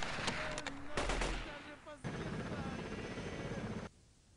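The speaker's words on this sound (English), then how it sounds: "Somebody started shooting randomly." Shots in Delta Force 2, a few sharp bursts of gunfire up front followed by a steady roaring engine-like drone, with an abrupt stop near the end.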